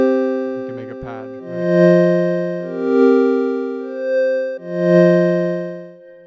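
A sustained synth pad patch in Serum plays slow held chords with rich stacked harmonics, each chord swelling in and overlapping the next, steady and close with no voices.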